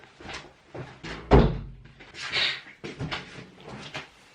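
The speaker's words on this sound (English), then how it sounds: "just the postman putting something through the post box" Mail is pushed through a front door letterbox at home, with a few sharp clattering thunks and rattles of the flap and door at close range, separated by short pauses.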